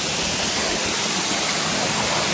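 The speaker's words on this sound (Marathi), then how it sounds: "मागं वॉटरफॉल आहे" A waterfall at a secluded spot in Badlapur roars with a steady, dense rush of water. The sound is close and loud and fills the whole stretch without a break.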